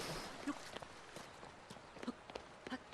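Horse hooves clip-clopping in the video game Zelda: Tears of the Kingdom, a steady run of light, close hoofbeats over a busy background of game sound.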